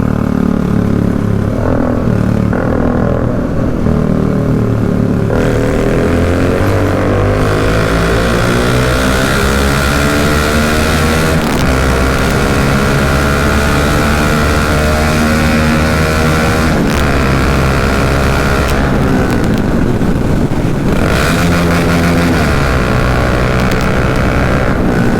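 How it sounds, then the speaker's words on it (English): Loud Bajaj Dominar 400 motorcycle exhaust booming inside a tunnel, engine revs rising and dropping through downshifts, close and sustained with echoing roar throughout. "There's a tunnel ahead of me, so I guess let's get the action going. Let's downshift a little."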